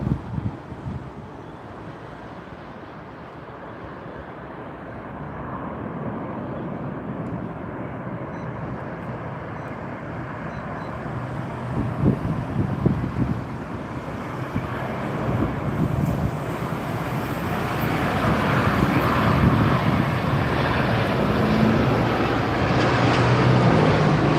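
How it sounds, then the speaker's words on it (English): Royal Jordanian airliner landing on runway 27R at London Heathrow, a distant broadband jet roar that swells gradually over the span, mixed with wind buffeting on the microphone; no speech. "Royal Jordanian coming in now"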